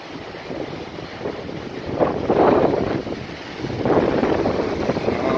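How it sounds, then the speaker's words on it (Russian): Falling water at the Belogorka waterfall in Kyrgyzstan, a steady outdoor roar with wind buffeting the microphone and surges in loudness as the cascade thickens. "Прям видно, падает вода."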